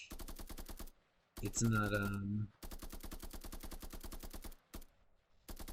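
Bursts of rapid automatic assault rifle fire in an Unreal Engine 5 third-person shooter, loud and close in steady rhythmic strings, with a short spoken interruption between bursts.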